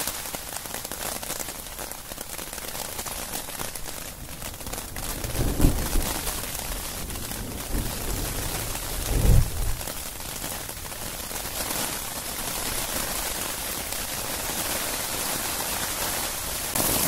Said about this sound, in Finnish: Rakeita tulee.